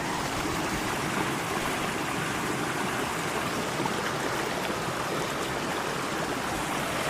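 Flowing creek along the Skyline Trail, a steady, full rush of water close by, continuous and even with no talking.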